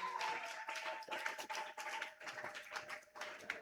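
A church congregation at a Pentecost service clapping for Jesus, a steady run of close, dense hand claps carrying on throughout, with a faint tone and no clear speech.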